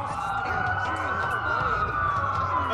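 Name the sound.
police sirens in a video game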